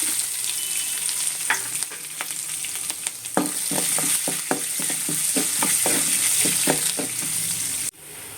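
Small onions sizzling in hot oil in a pan for a South Indian spinach side dish, a loud, steady frying hiss with repeated scraping clicks as the onions are stirred.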